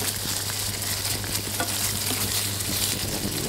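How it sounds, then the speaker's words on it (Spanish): Onion sautéing gently in a pan for saffron cod, a dense steady sizzle and hiss that holds evenly throughout, close and fairly loud, with no voices. "Se va la cebolla pochando muy bien."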